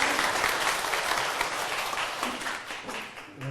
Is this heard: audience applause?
yes